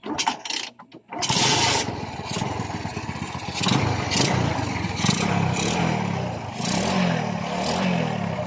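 A Rusi 100 motorcycle with a freshly replaced head gasket starts after a few brief cranking bursts, then settles into a steady, close, loud single-cylinder idle with slight throttle swells.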